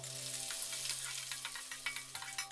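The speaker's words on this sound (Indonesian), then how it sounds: "setelah minyaknya panas kita akan tumis dulu ya serai daun jeruk, daun pandan, beserta daun kunyitnya" Lemongrass, lime leaves, pandan, turmeric leaves and scallions sizzle steadily in hot oil for a Manado-style chicken dish, with soft stirring clicks over a constant low hum.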